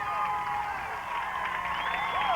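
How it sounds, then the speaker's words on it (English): A high school football crowd roars steadily after a touchdown in a 1997 Nettleton versus Gosnell game, dense sustained cheering and whoops from a large distant stand with no break. "The crowd is going nuts."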